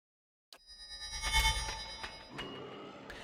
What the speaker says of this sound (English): a single ringing tone whistles through the air